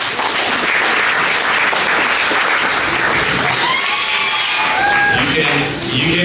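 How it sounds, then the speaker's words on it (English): Audience at a boxing press conference breaking into loud applause and cheering, a dense continuous roar of clapping with whoops and shouts rising in the second half, close and sustained. "give him a round of applause"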